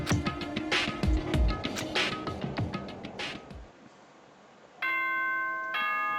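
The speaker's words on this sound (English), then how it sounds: "Ding dong, bing bong" A ding-dong announcement chime from the Danganronpa video game follows a few seconds of busy game sound and a brief lull, then rings out as a bright, sustained tone that cuts off and sounds again near the end.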